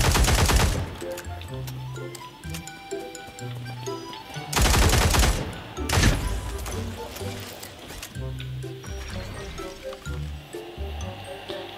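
Loud bursts of gunfire in a battle royale video game: a short volley at the start, then a longer burst near the middle followed by a single sharp shot, over background music.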